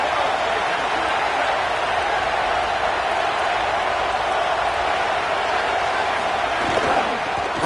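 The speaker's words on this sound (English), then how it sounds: "This crowd ready to make its presence known." A packed football stadium crowd at a Texas versus Ohio State game roars in a loud, continuous wall of cheering that stays level throughout without a break.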